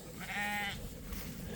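A sheep gives one short, wavering bleat close by, standing out from a low farmyard hum, followed by quieter rustling and background noise.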